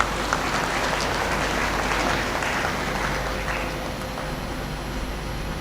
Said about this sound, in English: I think the university deserves a great applause.